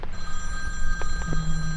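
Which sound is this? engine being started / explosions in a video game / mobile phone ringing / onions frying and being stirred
mobile phone ringing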